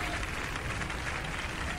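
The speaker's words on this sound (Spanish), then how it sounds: "hay un audio de aplauso" A brief, steady burst of applause from a crowd, dense clapping without pauses.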